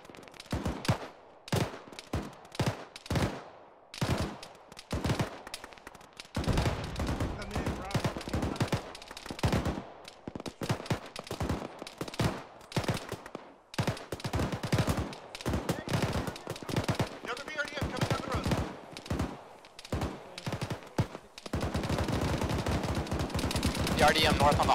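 Gunfire erupts in a military video game mission, with irregular single shots and rapid automatic bursts cracking close and loud. Near-continuous volleys build through long stretches.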